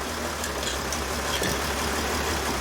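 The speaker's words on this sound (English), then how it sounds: "So as you can hear, the engine is running." A Mercedes Sprinter diesel engine running rough at idle with a cylinder misfire, a steady, close, loud low rumble with faint uneven knocks and no talking.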